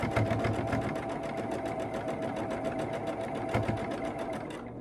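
A sewing machine runs steadily while stitching quilt block rows, a fast regular needle chatter with a faint motor hum, close and continuous until it slows and stops at the end.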